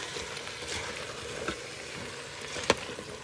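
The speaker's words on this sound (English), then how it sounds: "And we're just going to stir this all up." Chopped leeks and potatoes for vegan potato leek soup are stirred in a pot, giving a soft continuous scraping and sizzling texture with a single sharp clink of the utensil near the end.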